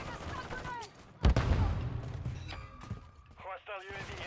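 Shotgun blasts in Call of Duty MWZ zombies mode: one heavy booming shot with a rumbling tail, followed by a few softer thuds, mixed with in-game voice lines and chatter.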